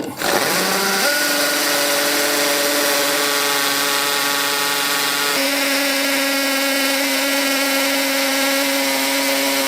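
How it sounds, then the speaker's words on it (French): Masonry drill bit boring through a pre-drilled hole while fitting floating engineered parquet, a loud steady high motor whine held continuously throughout, with a small pitch shift midway. "Et ensuite, je perce au travers du trou avec la mèche à béton."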